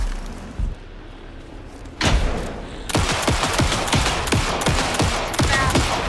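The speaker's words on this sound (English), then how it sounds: "Anderson, pin him down with a gunfire for me to get the light on him." Rapid gunfire rattles in Alan Wake 2 during the final boss fight: a quiet stretch, a heavy thump, then a sustained close burst of fast repeated shots.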